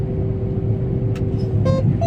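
A wheat harvesting combine idles with a steady low engine rumble and a constant mechanical hum, loud and close, with a few brief higher clanks and tonal whines near the end; no one speaks.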